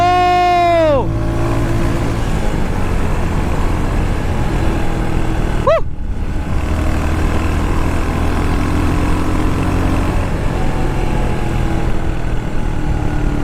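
A Royal Enfield Hunter 350 motorcycle runs with a loud, steady low engine drone close by, and two brief rising-then-falling rev sweeps break through the constant rumble.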